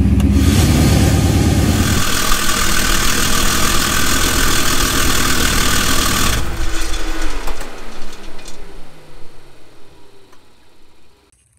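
A supercharged Mustang GT engine idles in drive with a loud mechanical whine and rumble from a failing 6R80 transmission torque converter, then the noise drops and gradually fades as the engine winds down.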